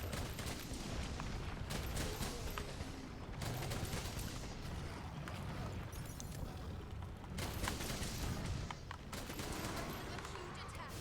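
Gunfire at a monster in Monster Hunter World Iceborne, dense rapid shooting bursts mixed with heavy booms and game noise, loud throughout, with a voice talking over parts of it.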